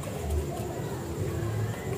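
Soft, low cooing from a domestic high-flying pigeon, close by and fairly faint, with a murmuring rise and fall over steady background noise.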